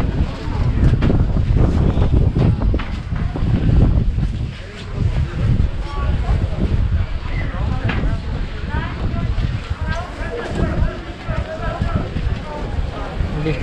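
Outdoor wind at a market square with a roundabout, gusting and buffeting against the microphone in loud rushing bursts while someone talks over it.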